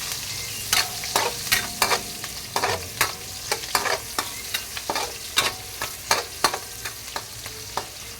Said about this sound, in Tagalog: Tapos ang gisang bawang at saka sibuyas.